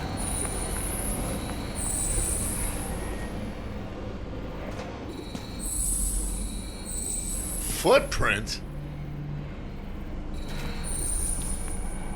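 Train in the Nobody Wants To Die video game, a flipped railcar scene with metallic squeals and rattling rail noise rising and fading, one sharp screech midway, beneath a brief spoken word.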